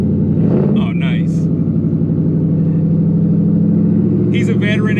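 A Mustang engine rumbling loudly at close range with a deep, steady idle and slight rises in revs, a voice briefly heard over it near the start and again at the end.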